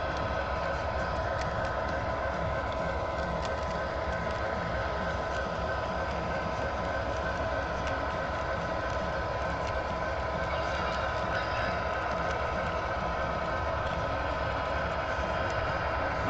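A CSX Broadway Limited locomotive runs on a small loft model railway layout, making a steady, quiet mechanical rumble and rail hum with faint clicking, with no pauses and no voices.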